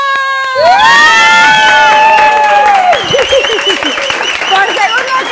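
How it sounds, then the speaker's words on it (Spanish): A studio audience bursts into loud cheering, shouting and clapping as guests are introduced on a talk show. The whooping is close and dense, with voices rising above it throughout. "¡Un aplauso!"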